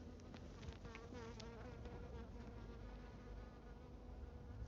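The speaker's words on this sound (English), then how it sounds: "You can probably hear the bees." Honeybees buzz around a flowering skimmia plant in a large garden container, a soft continuous hum with individual insects drifting closer and away.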